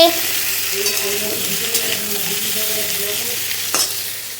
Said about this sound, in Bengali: আর এই সবজিটাও একটু হালকা করে ভাজা করে নেবো